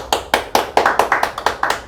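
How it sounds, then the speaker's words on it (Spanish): Production crew applauding at the close of a show, about a dozen crisp, close hand claps in a quick, slightly uneven rhythm, with no talk over them. "Un aplauso, producción."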